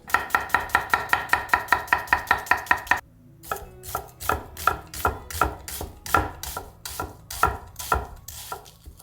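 A knife chops onion on a board in steady, rapid, close knocks, a quick even run, a short pause, then a looser, slower series of chops, with no talking.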